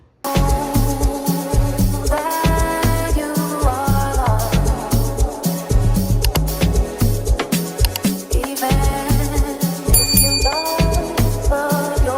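A bright notification bell chime rings out repeatedly over steady rhythmic background music, loud and close, with no talking.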